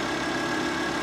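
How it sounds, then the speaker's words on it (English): A Volvo S40 T5 car engine idles in a steady, even hum, close and constant for a brief moment with no voices. "The engine is working."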